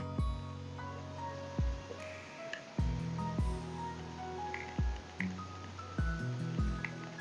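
Thickening patishapta pitha filling stirred constantly in a pan over low to medium heat: repeated soft, wet squelches and spoon knocks in a steady rhythm, close and clear.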